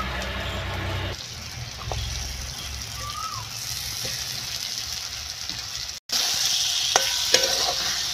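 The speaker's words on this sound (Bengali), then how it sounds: "মাছটার সঙ্গে মশলাটা আমি কষে নিলাম।" Fried fish head with masala cooks in a pan, sizzling and being stirred; a brief cutoff comes partway through, followed by louder frying and scraping.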